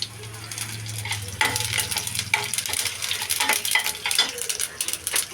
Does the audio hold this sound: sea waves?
no